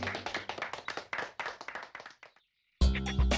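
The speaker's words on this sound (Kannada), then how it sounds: "ಈಗ ಹೊಡಿರಿ ಚಪ್ಪಾಳೆ." Cartoon hand clapping, a run of quick, uneven claps close up that trails off into a short silence before a louder burst of sound returns.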